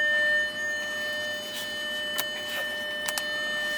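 A German car sounds a steady high-pitched electronic warning tone with the door open, continuous and fairly loud inside the cabin, with a few brief clicks over it.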